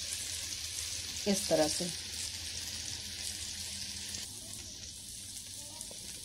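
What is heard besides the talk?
paneer tikka sizzling while roasting in pan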